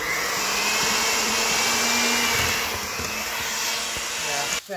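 An electric mixer whirs steadily through chocolate cookie dough made with flour and butter, a continuous close motor drone with slight wobble that cuts off abruptly at the end.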